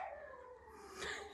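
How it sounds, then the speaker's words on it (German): A dog howls and yelps in the background of an indoor room, a drawn-out wavering cry that swells near the end, heard alone without talk. "Das ist mein Hund, der im Hintergrund Terror macht"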